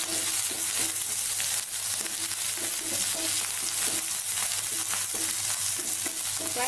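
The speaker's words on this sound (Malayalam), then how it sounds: "ഇതെല്ലാം കൂടെ നമുക്കൊന്ന് ഈ പരിപ്പൊന്ന് ചുമന്ന് കിട്ടുന്നതായി വറുക്കാം." Lentils fry in oil with three dried red chillies, three green chillies and curry leaves for lemon rice, giving a dense, constant crackling sizzle with light rhythmic stirring close by.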